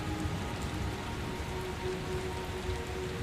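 Continuous rain pours down steadily, a dense even hiss with no talk or breaks from start to finish.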